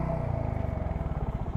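A Royal Enfield Hunter 350 motorcycle thumps along over rough, uneven ground, its engine pulsing rapidly and closely with some clattering, no speech.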